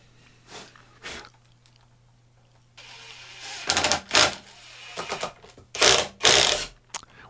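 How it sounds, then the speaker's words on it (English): An impact driver sinking screws into a woodworking vise mounting plate, with sharp bursts of rapid mechanical hammering that start and stop in short runs, close and loud. "with my handy-dandy impact driver, I'm going to drive all 4 screws into place"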